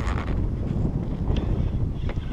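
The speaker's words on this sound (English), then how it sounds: "ever since the wind started blowing" Wind blows steadily across a fishing boat during a flounder trip, a continuous broadband rush buffeting the microphone, with a few faint higher sounds poking through.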